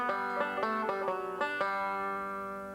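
Five-string banjo plays a short ending phrase as a quick run of bright plucked notes that ring together and fade. It is close, clear and solo, with no voices.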